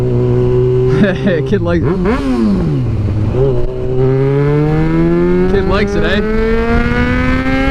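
A 2009 Yamaha FZ6R motorcycle with a new exhaust revs loudly up and down, close by, settling into a rising steady drone, with brief talk over it.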